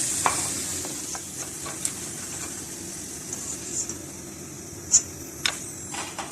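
Potato chips frying in hot oil: a steady, close sizzle throughout, broken by a few scattered clicks and taps.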